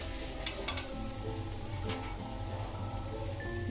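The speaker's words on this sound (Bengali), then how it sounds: "আরও কিছুক্ষণ ভাজবো এটাকে চিনিটা দিয়ে।" Pumpkin fries in a pan under a soft steady sizzle, with a few quick clinks and scrapes of stirring early on, close but quiet and with no one speaking.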